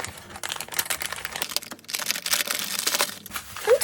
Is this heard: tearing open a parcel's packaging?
yes